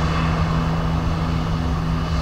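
An Aer Lingus airliner arriving from Bordeaux at Dublin Airport, a brief steady engine drone with a low hum, close and even throughout, with no voices.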